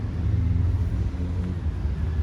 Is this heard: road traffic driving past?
yes